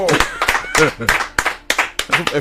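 Steady rhythmic clapping by an audience for guests at a Yoruba live show, regular claps under a singing voice throughout.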